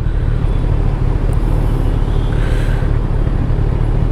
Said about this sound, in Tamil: ஈவினிங் டைமில் தான் கொஞ்சம் டிராஃபிக் ஆகுதுங்க இங்கே.